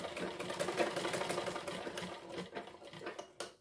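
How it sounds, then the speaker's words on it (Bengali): An electric sewing machine runs steadily at close range as it stitches along the side of a piece of fabric, with a continuous whirring hum that slows and stops near the end. "একটা সাইড সেলাই করে আর একটা সাইড সেলাই করে দিচ্ছি।"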